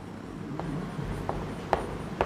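Pen scratching notes by hand in a science classroom, a few faint strokes and taps over a low steady background hum.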